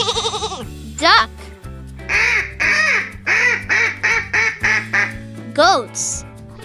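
Duck quacking in a quick series of short, nasal bursts set to a children's nursery-rhyme beat, loud and upfront, with brief voice bits at the edges.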